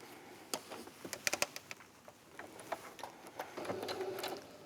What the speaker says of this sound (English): So just sewing right along that center back, just in a straight line.